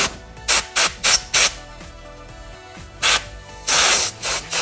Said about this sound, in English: This got me an air gun, a little needle valve on it,